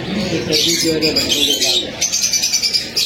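Breeder pigeons in a Karachi bird market shop, pairs sitting on eggs and chicks, giving soft repeated coos and a few chirps close by, with people talking over them throughout.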